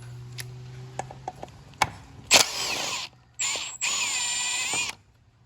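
A ratchet loosens stator bolts on a motorcycle, giving a few quiet clicks and then longer close-up bursts of rapid ratcheting, separated by brief pauses.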